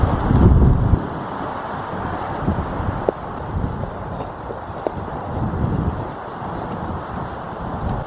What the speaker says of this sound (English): The wind is worse over on that ridge.